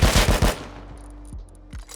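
Automatic weapon fire in Rust, testing the game's new recoil: a loud, rapid burst of about five shots in the first half-second, then ringing tail and a few faint clicks and thuds.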